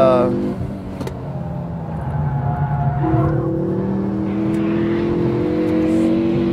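Ford Focus RS500 (2010) engine driven hard on a race track, a steady loud drone with shifting pitch that rises and changes gear partway, under continuous talk from the driver.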